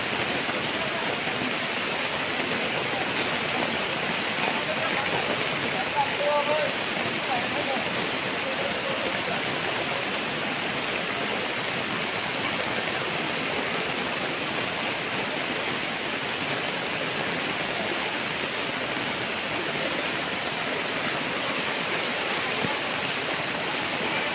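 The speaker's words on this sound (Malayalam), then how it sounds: "പാലത്തിൽ നമ്മുടെ റോഡിലൂടെയുള്ള വെള്ളത്തിൻ്റെ ഒഴുക്ക് ക്രമാതീതമായി കൂടിക്കൊണ്ടിരിക്കുന്നു" Heavy rain pours down while water flows over a bridge road in Kottekkulam, a dense continuous hiss of rain and running water at steady loudness, with faint voices now and then.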